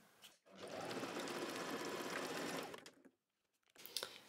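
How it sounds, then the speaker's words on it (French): A domestic sewing machine stitches two layers of sweatshirt fabric together for a collar seam, one steady run of about two and a half seconds, quiet and close, followed by a short pause and fabric handling. "Et on va venir coudre ici, bien l'un sur l'autre comme ça"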